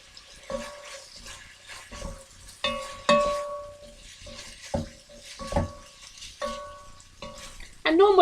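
Chicken pieces stir-fried over a low flame in a pan, heard as repeated clinks and scrapes of a utensil against metal with a soft sizzle beneath, irregular and close.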